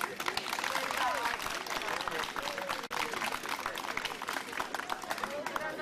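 A large crowd at a St. Hubert's Day hunting event claps steadily for about six seconds, with dense, even clapping, a short dip midway, and no voice over it.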